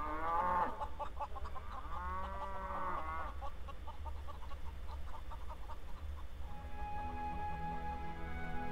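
Farm animals call out on a farm in the game Neverwinter Nights, with drawn-out cow moos and clucking fowl layered over a low steady hum, loud and close, the calls overlapping throughout.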